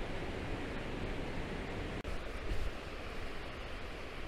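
Steall Falls in Glen Nevis, Scotland, dropping roughly 50 to 60 metres, a steady broadband roar of falling water heard from nearby, with a brief dropout partway through.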